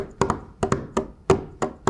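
Hands tap out a three-against-five polyrhythm, sharp close knocks falling in an uneven interlocking pattern, with a faint pitched ring under some hits and no talking.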